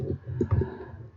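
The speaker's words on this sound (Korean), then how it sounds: "재생성하고 모두 저장 한번 눌렀습니다" Computer mouse gives a couple of small, close clicks while saving in CAD software, short and crisp against a quiet room.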